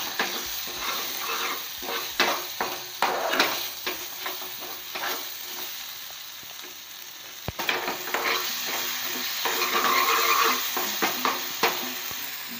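Spice masala being sautéed and stirred in a pan over low gas for a jackfruit vegetable dish, with a steady soft sizzle and repeated scraping and clinking of the spoon against the pan, no voices.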